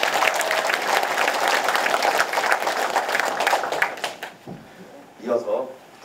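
A crowd applauds in congratulation at a local town event, dense steady clapping for several seconds that dies away, followed by a voice speaking.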